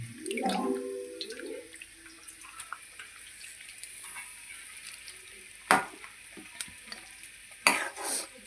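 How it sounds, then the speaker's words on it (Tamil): Constant sizzling of chicken frying in a pan with occasional scraping stirs and clinks, with a brief tonal squeak at the start. "இந்த பக்கம் பாருங்கள், சிக்கன் வறுத்துட்டுருக்கேன்."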